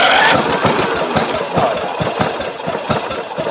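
A 1993 Craftsman LT4000 lawn tractor engine, unused for four years, cranks and catches into a rough, knocking idle with rattling pulses, loud and close.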